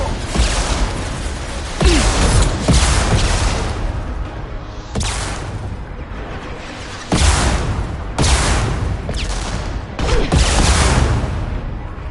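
Weapon fire in Mass Effect 2, with repeated loud broadband blasts and booming bursts at intervals, each followed by a rumbling decay. Heavy, dense and close, with no talk.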